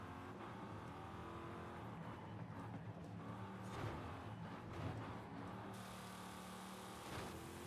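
A car in the Forza Horizon 5 racing video game cruising slowly, its engine giving a steady, continuous drone that swells slightly in places, with no talk over it.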